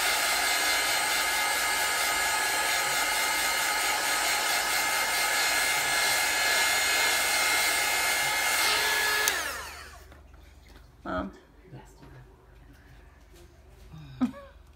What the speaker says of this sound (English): Now I need to dry this. I need the heat gun.